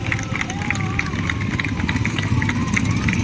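Motorcycles of the BSF Daredevils stunt team riding past at a ceremonial parade, a steady engine drone with a rising and falling whine, crowd murmur and amplified voice underneath.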